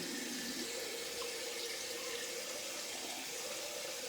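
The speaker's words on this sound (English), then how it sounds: "I can probably just wet the face and do residual." Water runs steadily from a bathroom tap while the face is wetted for shaving, a constant close hiss and splash with no talk over it.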